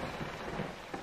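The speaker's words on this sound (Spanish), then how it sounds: "Llueve." Rain and rumbling thunder in the video game Fran Bow form a dense, continuous wash of falling rain with low rolling booms underneath, steady and fairly close.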